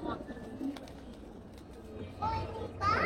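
Pigeons cooing in a loft in Amin Bazar, soft intermittent coos and bird calls under nearby conversation, with a brighter call near the end.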